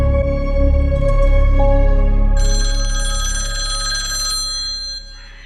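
After a call is placed, a phone line rings loudly and steadily in a repeating electronic tone, with no talking.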